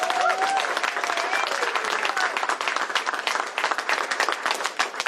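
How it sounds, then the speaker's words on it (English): Sustained applause from an audience at a governor's bill signing, dense and loud clapping filling the room from start to finish. "So please give another round of applause to Malou"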